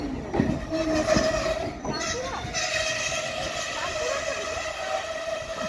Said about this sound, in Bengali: জয়নগর এক্সপ্রেস বেরিয়ে গেল